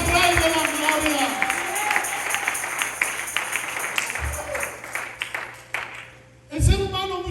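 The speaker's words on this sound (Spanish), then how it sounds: "dale un aplauso de nuevo, pero dáselo fuerte" Loud church congregation applause and cheering at a Sunday service, a dense wash of clapping with crowd voices that swells, dips briefly and surges again near the end.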